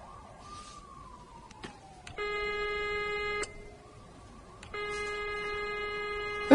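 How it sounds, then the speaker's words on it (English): A doctor's telephone rings in a film scene, two long electronic trills in a row, loud and clear, with a falling tone and a few clicks before them and no talk. "the doctor's phone begins to ring"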